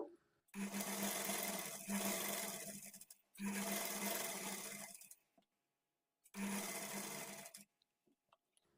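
A sewing machine double-stitches the sleeve joint of a blouse, running in three separate bursts of steady, close whirring stitching with short quiet pauses between them.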